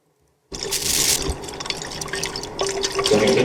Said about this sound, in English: that was the shaking water bottle earlier